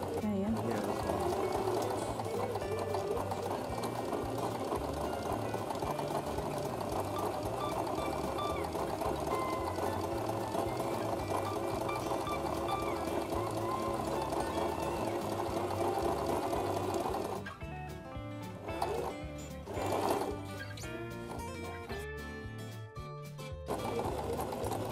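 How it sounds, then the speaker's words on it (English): A sewing machine runs steadily while stitching a straight seam, a fast even mechanical whir for most of the stretch before slowing and stopping, with a voice talking over it. "I'm just going to sew straight so you can see exactly how to sew straight."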